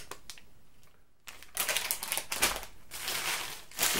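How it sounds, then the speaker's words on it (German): Paper packing material rustles and crinkles while a box is unpacked, with a quiet stretch early on, then dense, loud, close crumpling bursts, no talk. "Hier noch mehr Papier."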